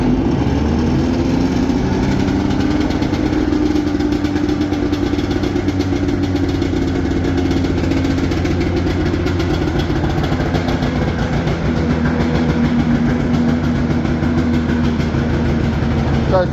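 A Yamaha snowmobile engine fires on choke and settles into a steady, loud, close idle, a continuous low throbbing drone with a faint voice now and then.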